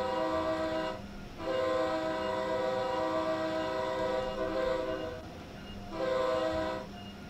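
Train horn from a Northeast Corridor train between New York and Trenton in Train Sim World 3, two long loud chord blasts separated by a brief gap with a shorter third blast, over low rail rumble.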